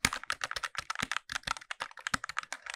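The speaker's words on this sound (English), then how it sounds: "I actually switched out the switches from Gateron brown to Gateron yellow switches." Someone types on a mechanical keyboard fitted with Gateron yellow switches, giving a fast, even run of crisp clacks close to the mic, with no talking.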